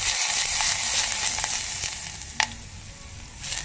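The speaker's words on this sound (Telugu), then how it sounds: "అందులో పచ్చిమిర్చి ఉల్లిపాయలు వేసుకొని లైట్గా వేపుకోవాలి." Green chillies and onions fry lightly in a pan with a steady close sizzle, a few brief pops and crackles breaking through, for a healthy jowar soup.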